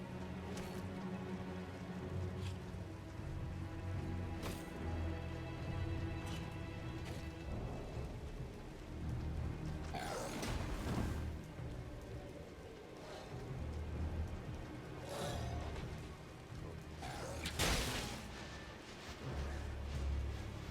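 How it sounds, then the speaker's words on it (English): Steady rain falls over the Weeping Peninsula in the video game Elden Ring, a continuous hiss mixed with low rumbling and several sharp bursts of in-game sound. "It's always raining in the Weeping Peninsula."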